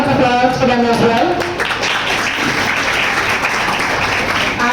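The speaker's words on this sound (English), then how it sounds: "A huge round of applause for them as well." Audience applause at an International Doctor Day celebration after student performances on stage, a dense, sustained round of clapping filling the whole stretch at steady loudness, with some voices mixed in near the start.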